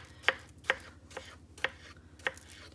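A banana being chopped into bite-sized pieces on a cutting board for a tropical fruit salad, with five crisp knife strikes at a steady, unhurried rhythm, close and clear, with no talking.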